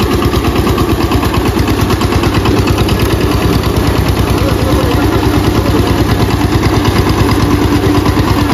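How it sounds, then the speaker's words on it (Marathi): A tractor engine runs on a farm, loud and close, with a steady, even chugging throb that never changes pace throughout. "काकी ट्रॅक्टर चालवता"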